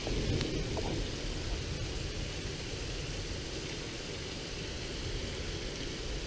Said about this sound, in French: Et on voit plus rien tellement qu'il pleut